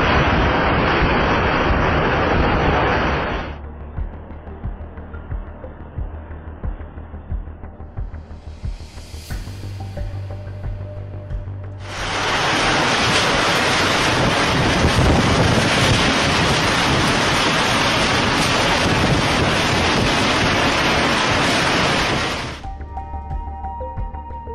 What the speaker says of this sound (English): Mind-blowing wind speed.